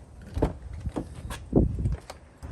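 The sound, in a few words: Toyota 4Runner driver's door being unlocked and opened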